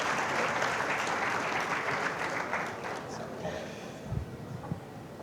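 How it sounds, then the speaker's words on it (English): Applause for a guest of honor at a 75th anniversary launch and fundraising event: a dense, steady round of clapping from a large audience fills the room, thinning out toward the end, with a few isolated claps and brief voices trailing after. "Oh, a bigger round of applause"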